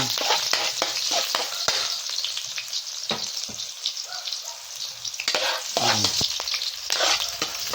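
Garlic, ginger and onion sautéing in oil for adobong pusit, a busy crackling sizzle with scattered pops and occasional stirring scrapes, close up and continuous with no talk.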